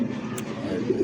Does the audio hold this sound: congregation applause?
no